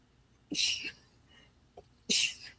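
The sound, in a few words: sneeze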